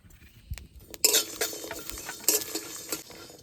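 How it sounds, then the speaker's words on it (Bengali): A spoon scrapes and clinks against a metal pan in irregular strokes over a light background sizzle of whole spices frying for Champaran mutton, close and fairly crisp. "গোটা মশলা এবার একটু ভেজে নেবো"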